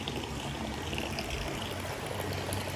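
Water pours steadily out of the side outlet of a small homemade swimming pool, a continuous close rushing splash with no pauses.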